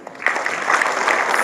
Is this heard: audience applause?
yes